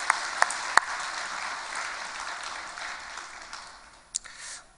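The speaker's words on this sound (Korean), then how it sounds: "옆 사람에게도 박수 한번 보낼까요?" Church congregation at an early-morning service giving a light round of applause, faint and distant, with a few sharper claps standing out before it fades near the end.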